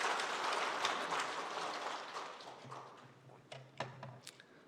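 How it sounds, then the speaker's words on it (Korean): A church congregation at a Sunday worship service applauds, a soft wash of clapping that fades gradually over a few seconds, followed by a few sparse sounds and faint speech. "우리 예배 안내부를 위해서 다시 한번 감사의 박수를 드리겠습니다."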